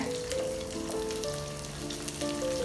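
Shallots and garlic frying in oil for a Chettinad fish curry: a dense, continuous close sizzle with faint tonal music underneath and no talking, lasting a few seconds.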